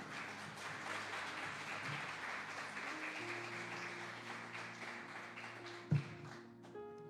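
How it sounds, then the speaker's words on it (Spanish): Congregation in a church applauding together, a sustained wash of clapping with a sharp louder burst near the end, while an organ or keyboard chord holds underneath. "Denle un aplauso al Rey de Reyes."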